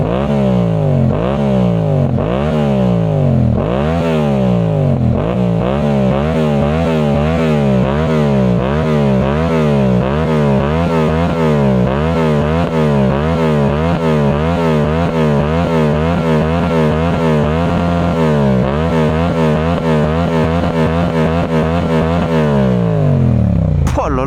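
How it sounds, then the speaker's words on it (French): A motorcycle engine runs loud and close for a long stretch, idling and then revving repeatedly in rising and falling surges, with a steady throbbing rumble between revs. "Je vais vous faire écouter un peu le son de la moto parce que mine de rien c'est beau"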